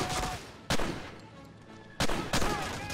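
Two sharp, loud Beretta pistol shots ring out in a World War II shooter game, Medal of Honor: Allied Assault, spaced over a second apart with a short reverberant tail after each, over a steady background of game noise.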